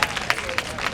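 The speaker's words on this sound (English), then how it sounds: "Let's clap it up for the man who did the day." Audience applause at an outdoor comedy show in the City of Linden: a short burst of scattered, fairly close hand clapping with crowd noise and a few sharper claps.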